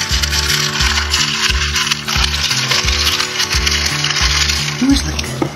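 Goodful 2.25-quart cold brew coffee maker running, giving a steady mechanical whir with a rhythmic, ratchet-like clicking pulse. It is loud and close and keeps going throughout.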